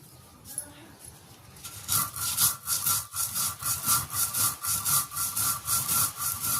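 Rice being ground by hand, with a steady rhythmic rasping rub repeating about twice a second, close and fairly loud, starting after a quieter opening.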